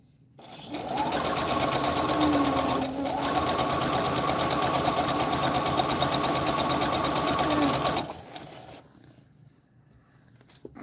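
A sewing machine runs steadily for about seven seconds at close range, starting and stopping abruptly, with a brief dip in speed partway through, then quiet room noise afterward.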